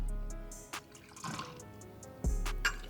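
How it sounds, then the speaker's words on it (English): A shot of Peach Crown liquor poured into a shot glass, a short liquid trickle with a few soft splashes and drips, close and fairly quiet, no talking. "I'm gonna do a shot of Peach Crown."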